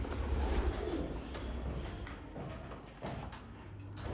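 A pair of Red European Siraji pigeons coos in a sunny loft, low soft repeated coos close by with faint shuffling and rustling in the background.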